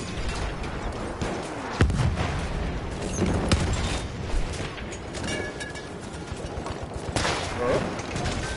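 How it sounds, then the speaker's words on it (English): Artillery and battlefield gunfire in the First World War shooter Battlefield 1: a continuous din of rifle and machine-gun shots punctuated by several sharp booming blasts, loud and steady, with voices faintly underneath. "that artillery."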